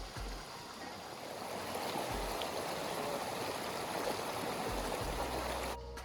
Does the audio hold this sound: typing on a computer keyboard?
no